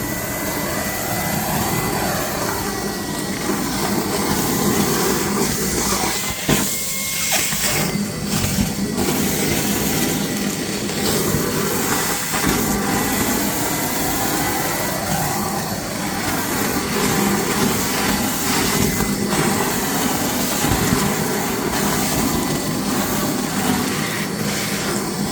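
An EGO 56V wet/dry vacuum, a 9-gallon WDV0900-series shop vac, runs on its turbo setting with a loud, steady whine and rushing airflow that holds continuously, with no talk over it.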